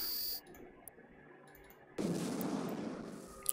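Spaceship weapons volley in Eve Online: after a short electronic tone and near silence, a loud burst of booming, crackling weapon fire erupts and rumbles on, ending with a sharp final crack.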